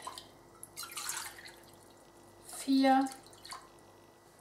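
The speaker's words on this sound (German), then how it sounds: "Ich mache jetzt erstmal 4 Cups Wasser in meine Pfanne." Water is poured into a pan for Korean tteokbokki, measured out cup by cup: two short splashing pours, the second louder, with a person speaking briefly between them.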